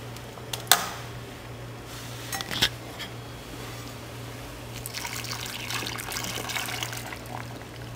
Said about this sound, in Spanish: Ya que le hemos vaciado el agua de la cocción